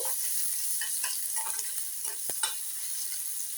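Finely chopped onions fry in oil with a soft, steady sizzle, broken by light spatula scrapes and a couple of small knocks against the pan, fairly quiet and without speech.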